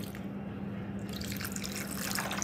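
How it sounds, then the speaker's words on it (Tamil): Water poured into a container of soaking herbs and lemon for homemade herbal shampoo, a continuous close splashing and trickling stream that brightens and grows fuller toward the end. "இது நல்லா முழுகிற அளவுக்கு தண்ணி ஊற்றிக்கலாம்."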